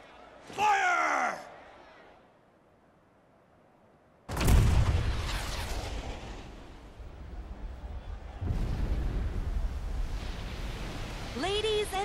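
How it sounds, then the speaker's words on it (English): Junon's famous cannon in Final Fantasy 7 Rebirth fires a single huge blast, a sudden deep boom that rolls into a long rumbling tail, with a voice heard briefly before and crowd-like noise swelling afterward. "with a single blast of Junon's famous cannon, Rufus Shinra has announced his arrival"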